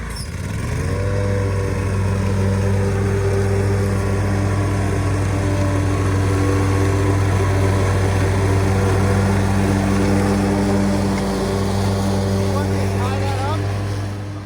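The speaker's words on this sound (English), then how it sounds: "then I'm going to mow this side here" A lawn mower cutting through extremely thick, overgrown grass makes a loud, steady engine drone close by that runs unbroken from start to finish.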